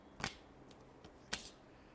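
Tarot cards being shuffled by hand in a quiet room, with two crisp riffling bursts and a few softer flicks between them, close and alone.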